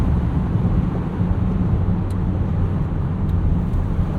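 A 2023 Bentley Continental GTC Azure convertible accelerates with the top down on canyon roads, a steady low engine rumble mixed with rushing wind and road noise, close and continuous.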